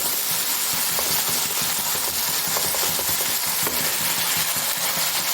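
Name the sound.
ingredients frying in a pan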